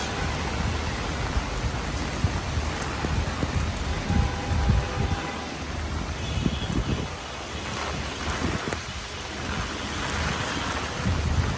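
Steady rain falls and patters on surfaces of a rooftop garden, a dense continuous hiss with some wind rumble, no voices.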